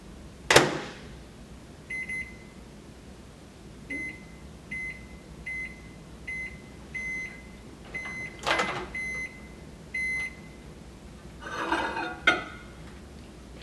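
A microwave oven cooks eggs with salsa: a low steady hum with a door clunk at the start, repeated electronic beeps, and later clatter of handling, all close and alone.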